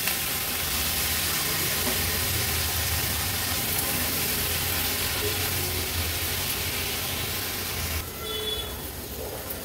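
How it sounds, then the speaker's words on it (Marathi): Potato and vegetables are stir-fried with spices in a pan for a Maharashtrian veg thali, giving a steady, fairly loud hiss and sizzle with low rumbling underneath, ending in a brief clatter. "आता भाजी व्यवस्थित परतून घ्यायची।"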